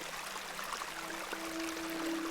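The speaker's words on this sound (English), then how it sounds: "This is a lovely little beck." A small babbling beck in The Excavation of Hob's Barrow game trickles and splashes softly and continuously, faint and steady, with a quiet held tone running beneath it.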